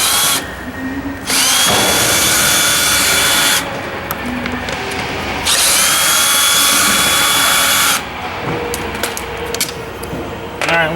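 A power tool removes bolts from the clutch cover of a Honda HS400, with loud whirring bursts that start and stop repeatedly close to the microphone, each run lasting a couple of seconds, and no talking.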